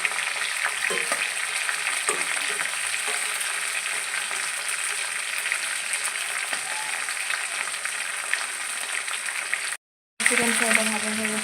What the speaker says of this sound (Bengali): মিডিয়াম আছে চিকেনটাকে ভেজে নিচ্ছি।